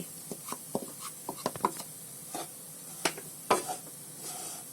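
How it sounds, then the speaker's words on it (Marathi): Khoa is stirred into roasted ragi flour in a pan, a quiet dry mix marked by scattered close scrapes and clicks of the spoon, some sharp and brief, with no talking. "आता त्याच्यामध्ये आहे ना हे खवा टाकते आणि चांगलं मिक्स करते"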